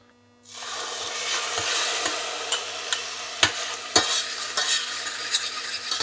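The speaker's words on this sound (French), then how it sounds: "je vais mettre la pâte pour la faire un peu dorée. un peu frire." Curry paste for Cambodian fish amok hits hot oil in a pan and sizzles steadily, loud and close, with repeated scraping clicks of a utensil stirring it throughout.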